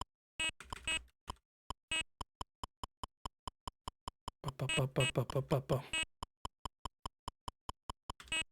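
Short electronic beeps from a Game & Watch Popeye handheld game tick out in a quick, uneven series, close and crisp, with a person talking over part of it.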